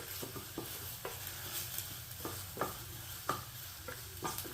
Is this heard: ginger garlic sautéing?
yes